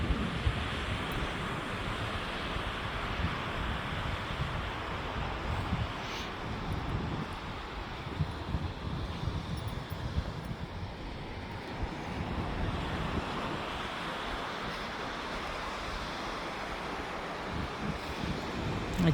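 Ocean surf rolling onto the beach at Monte Gordo, Portugal, a continuous broadband wash of breaking waves with steady roar and no speech.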